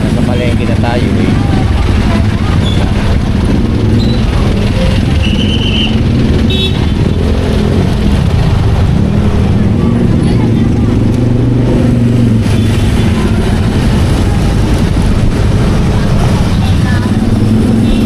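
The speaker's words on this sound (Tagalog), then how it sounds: "traffic na, syempre nasa palengke na tayo eh." Busy street traffic by a market in Malabon, near Navotas in the Philippines: cars and motorcycles rumble steadily and close by, with engines rising and falling throughout while people talk over the din.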